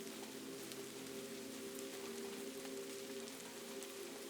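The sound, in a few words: rain falling on a roof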